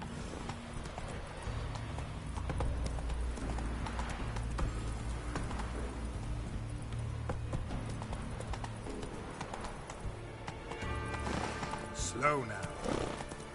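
Hooves of Geralt's horse Roach clip-clop steadily at a gallop across the open world of The Witcher 3, with a short whinny near the end, under game music.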